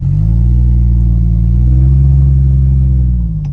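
A 2JZ-swapped Jeep engine revs loudly, holding a deep, steady, droning rumble up close that eases slightly only at the very end.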